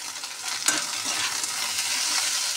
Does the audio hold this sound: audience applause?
no